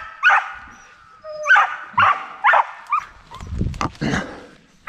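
Bear-hunting hounds barking repeatedly outdoors at night, a string of sharp, loud barks and yips in an uneven rhythm, with some whimpering and rustling near the end.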